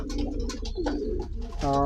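American Saint pigeons coo in low, throaty bursts, with a louder, steadier coo rising near the end over faint background noise.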